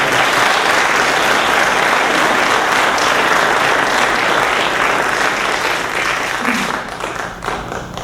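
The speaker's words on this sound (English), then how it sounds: "Let's give these gentlemen a round of applause" Audience at a 2014 county candidates forum gives the speakers a round of applause, loud steady clapping throughout that thins out slightly near the end.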